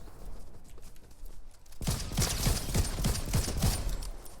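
Rapid gunfire in Fortnite, a quick series of sharp, evenly spaced shots starting partway in after quieter ambient game sound, fairly close and steady to the end.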